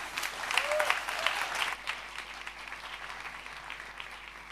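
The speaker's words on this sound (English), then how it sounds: "Great applause from our group" An audience at a Berlin youth hackathon claps for a student group's project, starting loud and full with a brief whoop, then fading to a lighter scattered patter with some voices mixed in.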